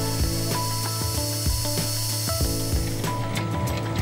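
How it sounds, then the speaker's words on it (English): A lathe knurling a clamping nut with a light pass, giving a fairly loud, steady rubbing grind broken by regular metallic clicks about twice per second. "I want this to have a nice knurled finish, so I made a light pass to make sure the pattern was going down well."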